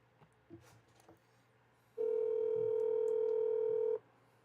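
A phone call's ringback tone before reaching voicemail: a single steady, clear tone lasting about two seconds, set against faint room noise and brief low sounds.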